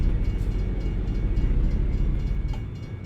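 A video game train rumbles past a railroad crossing nearby with a heavy, continuous low roar and faint rhythmic clatter, steady throughout with no voices.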